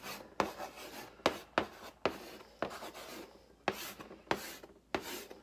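Chalk or marker scratching across a classroom board in repeated short strokes, each stroke starting with a sharp onset and trailing off, about eight strokes in a halting rhythm, close and clear.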